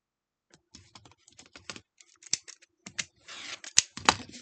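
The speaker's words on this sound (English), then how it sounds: "And we'll cut the excess off of that side." Scissors snip through excess quilt fabric while a block is trimmed, a run of sharp crisp cuts that starts sparse and grows quicker and denser, close by with no talking.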